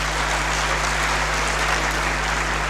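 Students applaud at a university alumni lecture, a steady wash of clapping that fills the hall and holds evenly for a few seconds with no voices over it.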